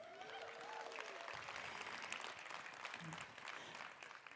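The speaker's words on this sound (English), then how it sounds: "We can clap for that." Conference audience claps in a fairly quiet, distant burst of applause that carries on for a few seconds beneath room ambience.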